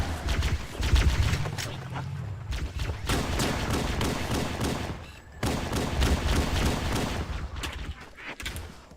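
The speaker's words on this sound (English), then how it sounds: "Stop shooting me." Rapid bursts of gunfire in Halo: Combat Evolved, loud and close, with volleys separated by brief gaps across a chaotic firefight.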